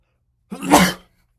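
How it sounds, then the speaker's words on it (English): A single short, breathy sneeze burst, close and fairly loud, with silence before and after. "I was about to sneeze"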